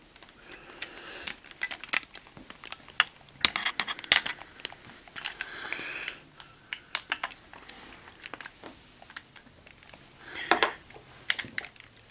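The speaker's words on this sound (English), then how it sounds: "So for DarkKnightmon, remove the lance part." A small plastic Digimon Xros figure is pulled apart, its lance part coming off amid a dense run of sharp, close clicks and taps of plastic pieces, with no voice.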